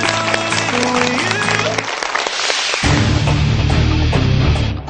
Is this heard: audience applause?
yes